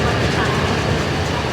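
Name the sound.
small tug locomotive pulling train into place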